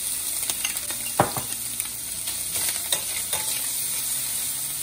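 Diced lobster and vinegar-cooked shallots sizzle steadily in a pan over lowered heat, with scattered stirring clicks and scrapes against the pan, no voices.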